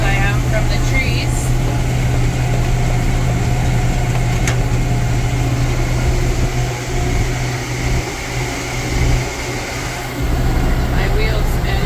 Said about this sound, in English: My wheel spinning. My rake wheel spinning.